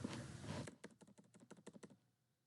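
Quiet close keyboard clicks, about ten separate keystrokes in a quick uneven run after a brief soft rustle, fading into near silence.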